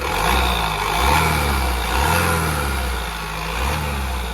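A 2015/16 Honda Mobilio with about 42,000 km has its engine revved repeatedly with the accelerator, the low drone rising and falling in several close, loud swells over a steady idle, with no talking.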